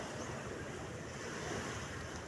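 Strong sea waves roll in as a constant, loud wash of surf, mixed with wind buffeting the microphone, with no distinct breaks.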